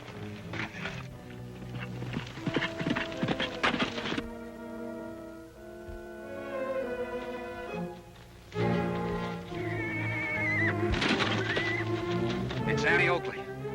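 A horse gallops while carrying two riders in an old Western drama, its hoofbeats mixed under orchestral music with occasional whinnies and some dialogue.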